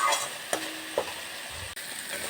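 Potato curry masala for dum aloo sautéing in a pan with a splash of water sizzles steadily up close, with a few quick stirring scrapes and knocks of a spoon against the pan.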